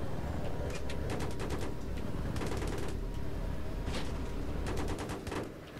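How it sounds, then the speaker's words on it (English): A .30 cal machine gun rattles in rapid bursts during a jungle co-op mission of Battlefield 3. Several quick volleys of closely spaced shots fire over a constant loud rumble of engine and battle noise. "I think there's a 30 cal machine gun on this thing, and it's like, I'm hitting them"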